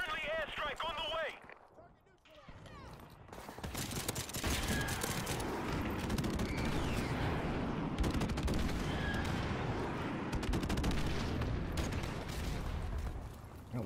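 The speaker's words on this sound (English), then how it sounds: "Friendly airstrike on the way!" Explosions and heavy gunfire in Call of Duty 4: Modern Warfare Remastered multiplayer on PS4, a steady roar of rumbling blasts and rapid shots with a game voice heard briefly.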